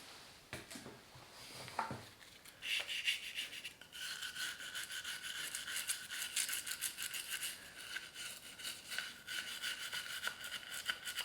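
A brush scrubs grime off a part during a BMW GS motorcycle rebuild, giving quick, close, bristly strokes in an uneven rhythm that grow busier and keep going without talk.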